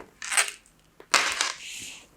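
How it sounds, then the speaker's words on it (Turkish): A drinking glass, set up for a water piano game, is slid aside on a table, giving two short scraping, clinking bursts close by with a quiet gap between them. "Şöyle hemen bu bardağımı kenara alıyorum."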